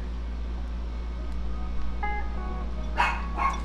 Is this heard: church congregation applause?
no